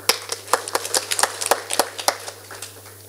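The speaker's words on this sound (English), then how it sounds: "So I think they deserve a clap for that." A few people at a pharmaceutical society conference in Kenya clap in sparse, uneven, sharp claps close by, with a low steady hum beneath.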